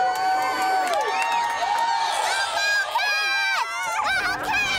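Young kids shrieking and cheering for the Bobcats flag football team, high excited voices overlapping in a lively babble, close and continuous, with speech mixed in.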